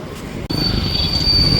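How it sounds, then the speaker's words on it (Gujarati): A train rolls past a closed railway level crossing in Morbi, its steel wheels giving a loud, sustained metallic squeal close by with a bright high ring, no voices over it. "દોસ્તો આ જોઈ શકો છો ટ્રેન ટ્રેન જાય છે"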